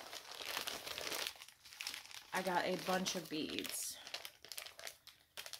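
Bubble wrap is pulled off a package with bursts of crinkling and crumpling, heard close by while a person talks over it.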